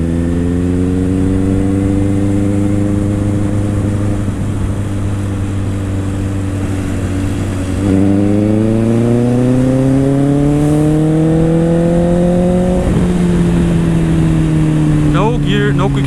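A Honda CBR 650R motorcycle engine accelerates hard while overtaking a slow road vehicle, its steady drone rising in pitch across two long pulls, loud and close throughout.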